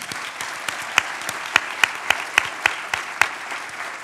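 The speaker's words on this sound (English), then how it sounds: "Let's give them a round of applause." Audience at a Memorial Sloan Kettering fundraising event claps steadily for about four seconds, a dense wash of hand claps with a few sharper individual claps standing out, no talk over it.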